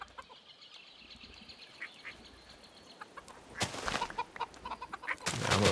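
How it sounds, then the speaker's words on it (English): Chicken in DawnCraft clucking amid faint ambient game noise, with a few soft clucks early on and louder, busier bursts of activity toward the end. "Chicken."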